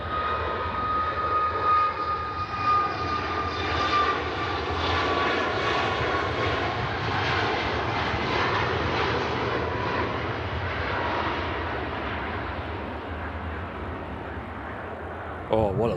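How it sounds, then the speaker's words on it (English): A Ryanair airliner climbs after takeoff, its jet engine roar loud and sustained throughout, a broad rushing rumble with a faint whine that slowly shifts in pitch, ending with a brief bump near the microphone. "Oh, what a lovely shot that is. The Ryanair climbing."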